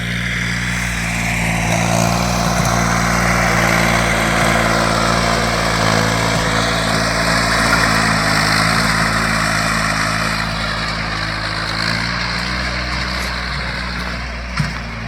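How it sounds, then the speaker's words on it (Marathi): A small tractor pulls a seed drill sowing chickpeas in a farm field, its engine holding a steady, close droning rumble throughout with no talk. "आपण या हरभऱ्याची पेरणी करतो आहोत लहान ट्रॅक्टर सहाय्याने"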